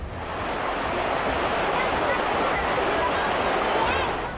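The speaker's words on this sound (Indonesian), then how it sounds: "Jebolnya tanggul Sungai Tuntang membuat air mengalir deras, membanjiri persawahan dan permukiman warga." Floodwater rushes from the breached Tuntang river embankment across rice fields and village homes, a loud, continuous roaring wash with wind-like hiss and no break, with a voice talking over it.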